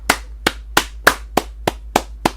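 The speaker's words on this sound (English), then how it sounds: "Sorry to hurt your ears, but this needs a clap" Eight sharp hand claps at a steady, slightly uneven pace, each a crisp close burst with a short decay, loud and alone over a faint low hum.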